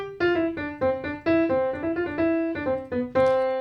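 A piano plays the opening of Deck the Halls, a short run of clear, evenly spaced single notes, close and alone with no talk.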